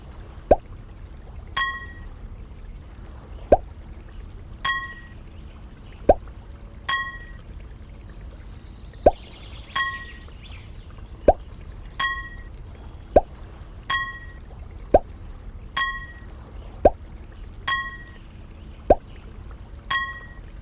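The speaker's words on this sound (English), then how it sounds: "Tap or drag to put the rocks in the right jars." Rocks sorted into jars in the Molly of Denali children's game sound as a regular series of short glassy clinks and plops, about one every second or two, each clear against a quiet background.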